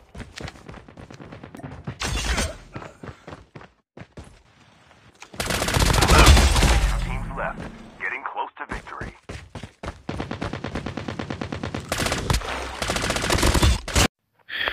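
Automatic gunfire in the Call of Duty Mobile game on a floating platform map, with repeated rapid bursts and one long heavy barrage in the middle, loud and close, while a player talks excitedly between shots.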